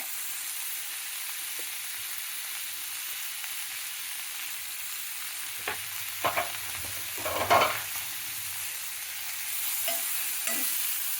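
Tomato pieces frying with mutton in a pan make a steady low sizzle, broken by a few stirring scrapes and clatters near the middle and end.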